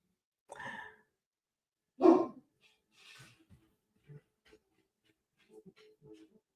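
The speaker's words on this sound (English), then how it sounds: "What you barking at?" A dog barks a couple of times indoors at moderate distance, short gruff bursts with breathy sighs between, followed by quieter faint rustles and small sounds.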